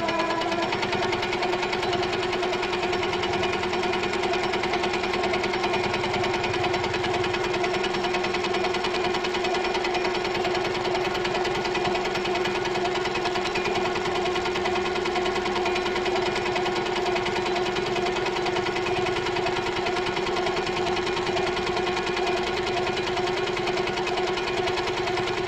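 A longarm quilting machine stitches feathers at 40% speed, a steady, even mechanical whir and rapid needle chatter that runs continuously and unchanged for the whole stretch, close and alone without talk.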